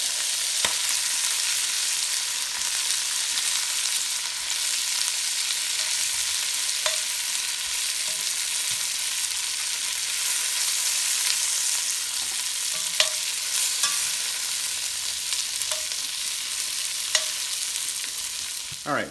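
Browned oxtails sizzle and fry in a pot, a steady crackling hiss with occasional stirring clinks and scrapes, close and continuous without speech.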